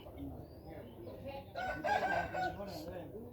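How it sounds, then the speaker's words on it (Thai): A prize breeding fighting rooster lets out a single crow partway through, fairly close and clear, with soft background clucking and low murmuring before and after. "เนี่ยพ่อไก่ครับ"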